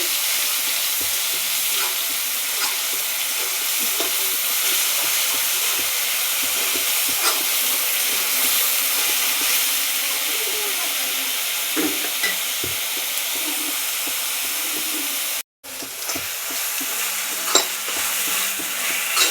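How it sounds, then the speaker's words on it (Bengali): Onions fry in hot oil in a pan for a jackfruit curry, giving a steady, close crackling sizzle with occasional stirring scrapes, and no talking over it. "পেঁয়াজটা একটু ভেজে নিচ্ছি"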